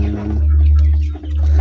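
A backyard hen at a village home in Thailand clucks close and loud, a brief run of throaty calls over a steady low hum.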